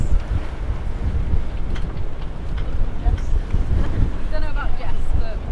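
Strong wind roars steadily across the microphone aboard a sailboat at sea, blowing about 21 knots, with waves and boat motion underneath. The sound is loud, continuous and close, with brief voices in the background.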